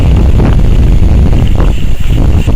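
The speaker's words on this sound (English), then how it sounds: "very windy though" Strong wind gusting at the Fairy Pools on the Isle of Skye, a loud, constant roaring buffet over the microphone throughout.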